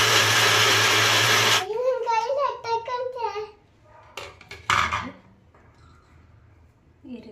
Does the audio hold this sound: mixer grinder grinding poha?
yes